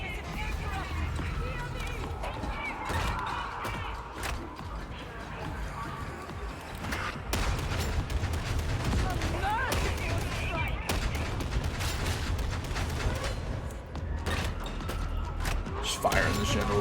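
Rapid gunfire from an Ogryn's Ripper gun in Warhammer 40,000: Darktide, dense bursts of shots layered with game effects and action noise, running steadily and loud throughout with talk over it.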